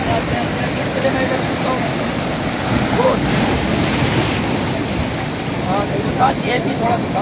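Sea waves washing ashore at Clifton Beach, a constant roar of surf mixed with heavy wind buffeting the microphone, while a person talks over it.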